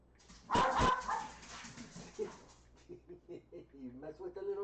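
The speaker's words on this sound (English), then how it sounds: "You mess with the little dog." A small dog yaps and whimpers, with a burst of loud, close barks followed by shorter whining yips, while a person talks nearby.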